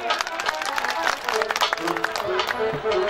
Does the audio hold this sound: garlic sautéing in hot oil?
no